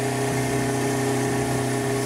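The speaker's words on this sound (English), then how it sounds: "So this is an old deck wash pump where the pressure switch is broken, so just as a one-off we're using it to pump diesel." An old deck wash pump with a broken pressure switch pumps diesel aboard a sailboat, giving a steady, close, mid-pitched motor drone with a faint pulsing vibration and no pauses.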